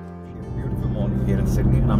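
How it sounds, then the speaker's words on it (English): A car drives along a road in Sydney, with a low, steady engine and road rumble heard from inside that builds slightly as it moves, while a person talks over it. "I'm driving to work"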